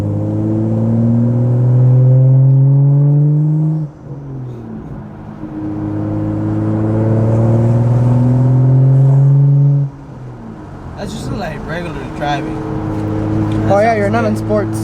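A BMW 435i with a catless downpipe accelerates hard twice on a test drive, each pull a loud, rising engine howl that cuts off abruptly, followed by people talking over lighter cabin noise.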